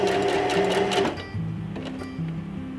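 A sewing machine stitches a button onto fabric, its needle clattering in a rapid, close, steady rhythm for about a second before stopping, leaving quieter mechanical whirring.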